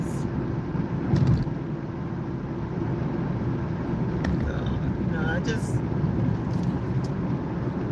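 A car driving on the morning ride to work, heard as a steady low road and engine rumble with wind noise from inside the vehicle, someone talking over it.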